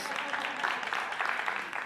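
Audience applause at a faith gathering, a steady wash of clapping lasting under two seconds at moderate level.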